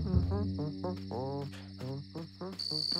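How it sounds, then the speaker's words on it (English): A cricket chirps steadily in a children's cartoon, a continuous high trill carrying throughout while other tonal sounds, likely a character vocalizing, play over it. "he heard something. A cricket."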